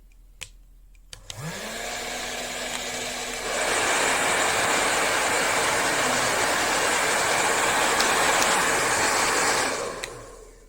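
Two Gamma Piu 3300 hair dryers blow at full power, a loud steady roaring whoosh that rises in a step as the second unit joins, holding constant before cutting off near the end.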